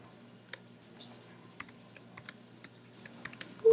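Keystrokes on a computer keyboard click in a quick, irregular run of sharp taps over a quiet background hum, close and fairly soft.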